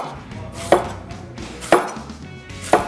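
A knife chops through apples on a cutting board in three sharp, evenly spaced cuts, close and clear over a quiet kitchen background, with no talking.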